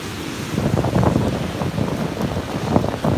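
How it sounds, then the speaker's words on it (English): Strong typhoon wind during Typhoon Mangkhut buffets the microphone in a steady loud roar with gusty surges, heard outdoors near shelter without any talk. "The wind as well is going to blow it again away from me."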